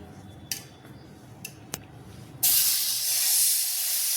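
Rava uttapam batter hits a hot, oiled nonstick pan, setting off a sudden loud sizzling hiss that holds steady after a few quiet clicks and taps.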